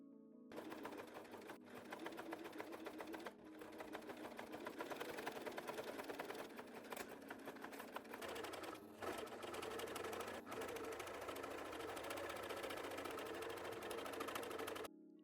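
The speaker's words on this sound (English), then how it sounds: "Then sew the sides together." Sewing machine stitching the side seams of a skort hums along in one continuous, fairly quiet run, with small changes in speed and no talking.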